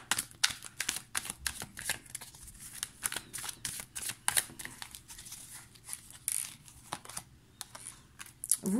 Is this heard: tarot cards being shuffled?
yes